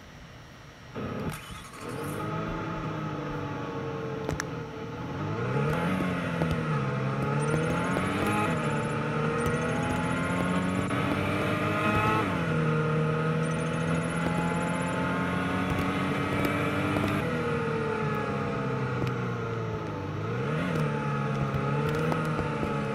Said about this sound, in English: It sounds like normal motor because it has 4-cylinder engine and it does have mid exhaust tips.